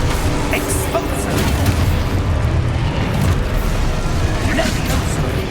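The Exposo explosion spell going off in Hogwarts Legacy, a dense rumbling blast amid continuous loud game combat noise, sustained and close without clear separate hits.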